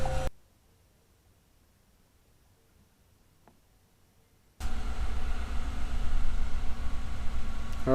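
A Chevy V8 engine turns over on a Viking power pack and catches, breaking a long near-silence with a sudden loud, steady running roar that holds to the end.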